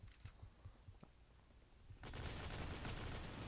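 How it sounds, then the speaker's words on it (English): Gunfire in Counter-Strike: a run of quiet, evenly spaced shots, then a dense, louder burst of rapid automatic fire that holds steady to the end. "I'm taking fire."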